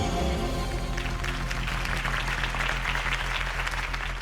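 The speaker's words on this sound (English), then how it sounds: "could have heard that applause" A crowd applauds a campaign speech in Batman: The Telltale Series, a dense, even burst of clapping that fills the short stretch, with a musical tone fading underneath at the start.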